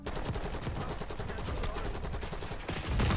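Rapid automatic gunfire in Black Ops 6, fired from a window position, crackling in dense bursts for the whole stretch and swelling louder near the end.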